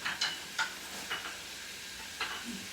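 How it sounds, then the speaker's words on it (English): Food frying for lobster sauce and fried rice with a soft steady sizzle, punctuated by a few sharp clicks and scrapes of a utensil in the pan, close up. "So as that's frying up,"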